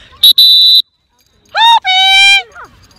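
A whistle sounds loudly and up close, first in two short shrill blasts, then a pause, then a warbling two-part call with a final fading tail, used to call a pet bird back.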